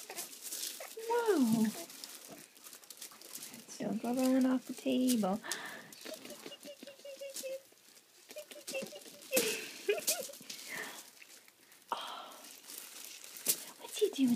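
Paper sheet on a doctor's examination table crinkles and rustles intermittently as a small child moves about, close by, under adult talk and the child's vocalizations.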